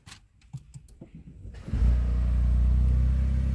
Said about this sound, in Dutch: Je hoort nu meteen dat hij overschakelt naar de benzinemotor.